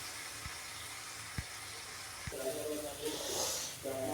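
Spices and turmeric fry in a pan for a Bengali potato dal, giving off a soft, steady sizzling hiss close by. Faint clicks and brief tonal sounds come through over the hiss.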